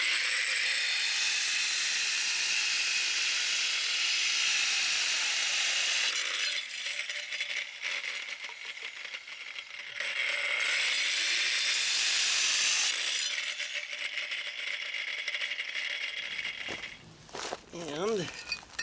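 Flagstone pieces being cut with a power saw, a loud bright high-pitched grinding hiss running in long passes that stop and restart, with a short stretch of talking near the end.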